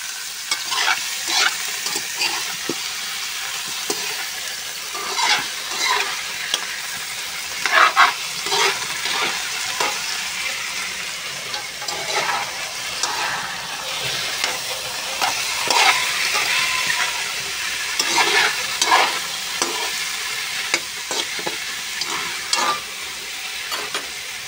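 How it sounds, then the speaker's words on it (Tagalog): Adobo is stirred as it fries in a pan, with a steady close sizzle under repeated scraping strokes of the spoon for a long stretch and no voices. "Haloin lang natin guys."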